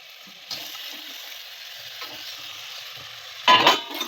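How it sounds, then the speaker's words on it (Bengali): Manchurian balls go one by one into a frying pan of simmering sauce, with a low steady sizzle and a loud sputtering burst near the end as they hit the hot liquid. "এবার এর মধ্যে আমরা মাঞ্চুরিয়ানগুলো একে একে দিয়ে দেবো।"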